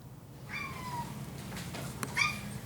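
A pet cat meows for food, a few drawn-out calls followed by a sharper short meow near the end, fairly close in a quiet room.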